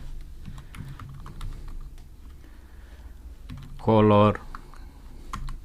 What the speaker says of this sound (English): I'm gonna type here Android